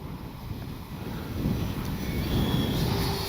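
Wind roaring across the microphone while a small RC T-33 jet with a 50mm fan flies outdoors, a steady broadband rush that swells louder partway through, with no talking.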